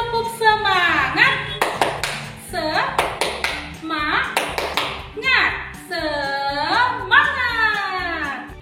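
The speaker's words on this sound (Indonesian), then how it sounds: "Oke anak-anak boleh mengikuti tepuk semangat dari rumah" A teacher leads a rhythmic "tepuk semangat" clapping chant for a second-grade class, sharp hand claps in quick patterned bursts alternating with a sung, chanting voice, close and clear.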